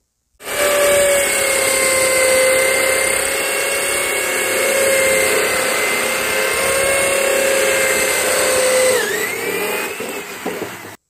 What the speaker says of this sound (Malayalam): കട്ടർ എടുത്തിട്ട് നമ്മൾ രണ്ടര ഇഞ്ചിൻ്റെ ഒരു ഹോൾ ഇവിടെ ചെയ്യാൻ പോവുകയാണ്